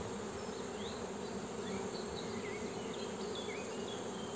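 Honeybees droning steadily at an opened hive in spring after cold, rain and storm, a dense, continuous close buzz with no pauses and no voices.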